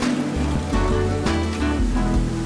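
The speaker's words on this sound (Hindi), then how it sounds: "यहाँ पे छोटी छोटी बहुत सारे झरनाएं हैं, जैसे कि ये एक है, छुपा हुआ एक झरना है यहाँ पे।" A small hidden waterfall in the hills of Darjeeling rushes in a steady broadband wash, loud and close, with low rumbling underneath and no voices.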